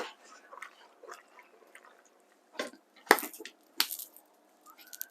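Macaroni and cheese being stirred, with soft wet squishing and a few louder sticky clicks at irregular intervals, close and quiet with no talking.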